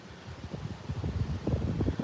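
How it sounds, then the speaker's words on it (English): Strong gusty wind as a hurricane gust front arrives, rough buffeting rumbles that batter the microphone in irregular pulses, growing heavier toward the end, with no talk. "Whoa, look at some of those winds coming in right now."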